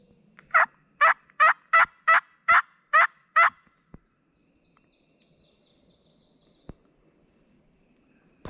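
A wild turkey gobbles in a quick rolling series of about eight loud calls in Virginia, followed by quiet with a faint distant bird call.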